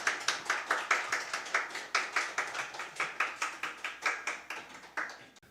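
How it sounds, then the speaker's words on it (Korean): A congregation at a church missionary-sending service claps to welcome a professor, a rhythmic run of about thirty even claps in unison. The sound is moderately close and steady, then stops abruptly. "우리 기쁨으로 박수로 우리 박영 교수님 맞이하겠습니다"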